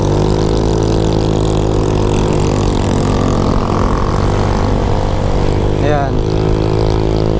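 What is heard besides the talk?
Honda Click motorcycle engine revving with JVT exhaust pipe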